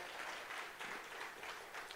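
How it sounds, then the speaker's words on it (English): Audience applause fills a conference hall at an award moment during a business conference in Dubai, a steady, dense wash of clapping that holds evenly throughout. "Give him a round of applause"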